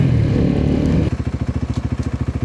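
A motorcycle engine runs while riding onto an expressway, first a smooth loud drone, then a rapid rhythmic chugging pulse as the engine note settles, close to the microphone and with no talking.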